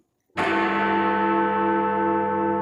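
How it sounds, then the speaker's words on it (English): A single church bell strikes once after a brief silence, loud and close, then rings on with a long, steady humming decay that fills the rest of the moment without fading much. "Expect the second when the bell tolls 2."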